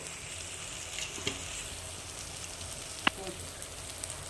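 Spices sizzle in a pan for a Telugu-style fish curry (chepala pulusu), a soft steady frying hiss with a couple of sharp clinks and taps, fairly faint and without talk.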